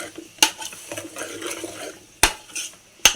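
Vegetables are stirred in oil in a pan for sambar, with a spatula scraping and stirring against the metal under a low frying sizzle and three sharp clanks against the pan's rim.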